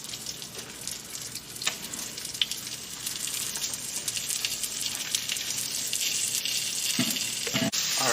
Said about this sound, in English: So we're going to sear this with the sesame side down.